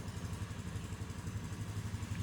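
A Polaris Sportsman 570 off-road vehicle engine idles with a steady, low, throbbing rumble and faint mechanical clatter, quiet and unchanging throughout.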